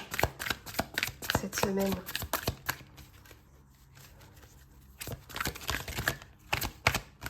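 Tarot cards being shuffled in quick bursts of crisp riffling and flapping, close by, with a quieter pause in the middle and someone speaking briefly.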